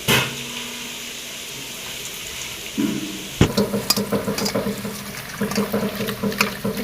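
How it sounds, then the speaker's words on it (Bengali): Packaged flattened rice (chira) being rinsed with water, with wet swishing and sloshing that starts partway through and continues in irregular bursts, close and fairly loud, after a quieter steady background. "জাস্ট এবারে জল দিয়ে ধুয়ে নিয়ে নেবো ভালো করে"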